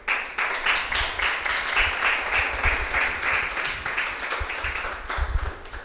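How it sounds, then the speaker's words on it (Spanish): A crowd applauds three university rectorship candidates at the close of a campaign event, with brisk, even clapping from many hands sustained at moderate loudness, a few louder thumps near the end. "hay un aplauso para los tres candidatos"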